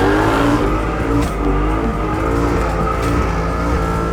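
A Chevrolet C10 truck skids with its tyres squealing and the engine roaring hard: loud, close and continuous, with the screech wavering over the heavy motor rumble and no talking.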